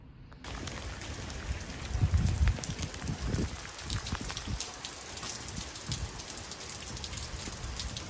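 Steady rain falls outside, a dense continuous patter of drops on surfaces with a brief louder rush near the start and no voices.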